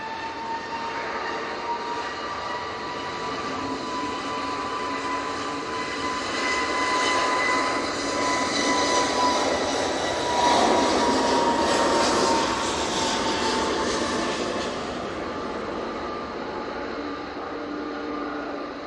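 An Emirates A380 airliner landing in a crosswind makes a loud, continuous engine roar that swells toward the middle and then eases off.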